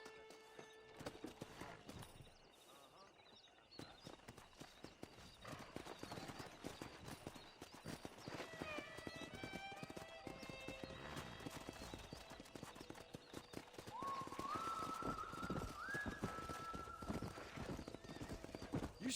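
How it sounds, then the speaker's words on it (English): Horses in Red Dead Redemption, set in New Austin: hooves clip-clop steadily over a long stretch while several neighs and whinnies ring out, one prominent near the end, against background music. "Let's see if we can't wrangle some horses."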